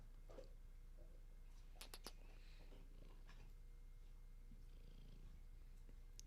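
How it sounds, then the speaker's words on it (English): A fluffy house cat purrs softly and steadily nearby, a low continuous rumble with a few faint clicks and rustles over it and no talking. "Do you see his cat right now?"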